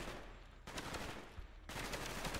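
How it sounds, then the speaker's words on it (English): Rapid gunfire in Call of Duty Black Ops, dense bursts of automatic shots that cut in and out in loud, sustained volleys. "I swear I'm shooting where the gunfire is."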